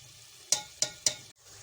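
Keema (minced meat) with whole spices cooking over a low flame in a pan, a steady soft sizzle broken by three sharp spatula scrapes or stirs, near and alone.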